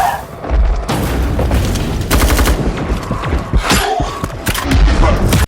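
Gunshot effect in a film sound mix, preceded by big hits, a heartbeat and a riser; loud booming impacts and sharp cracks in a dense layered sequence, several heavy thuds spread across the passage.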